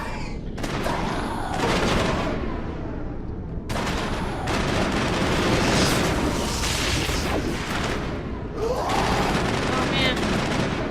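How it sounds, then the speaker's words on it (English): Heavy, sustained gunfire fills the Mass Effect firefight, with overlapping automatic bursts and occasional booms. It breaks off briefly a few times and then resumes loudly, with a voice mixed in. "Someone else is already shooting him."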